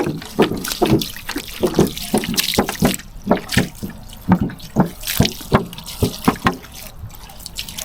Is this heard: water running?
yes